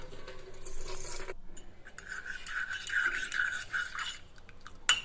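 Water runs from a kitchen tap into a pot, a steady hiss with shifting pitch as the vessel fills, preceded by brief clattering and ending with a sharp knock; no one speaks.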